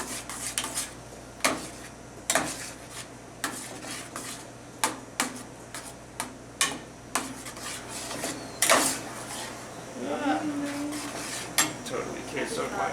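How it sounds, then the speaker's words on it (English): A spoon scrapes and clanks against a pot while melting Super Bowl queso is stirred, with repeated sharp metallic knocks every second or so and a soft sizzle, and a voice talking lightly in places. "I'm stirring it up just to make sure it doesn't burn on the bottom and just to help it melt."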